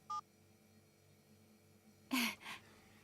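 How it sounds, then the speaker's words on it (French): A telephone is dialed in the children's cartoon Tractor Tom: one short electronic keypad beep, a quiet pause, then two louder, brighter tone bursts close together near the end. "J'appelle ton téléphone et on attend de voir où il sonne."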